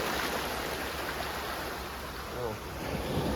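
Big, rough sea waves during a storm at the shore, a continuous loud rushing wash mixed with wind buffeting the microphone, with a faint voice underneath.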